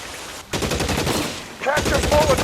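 Gunfire in the video game L.A. Noire, a rapid burst of shots in two dense clusters separated by a brief gap, loud and close, with a voice briefly audible near the end.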